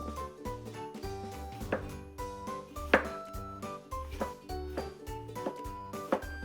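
A knife cuts through tomatoes on a cutting board in a series of spaced, sharp taps over steady background music.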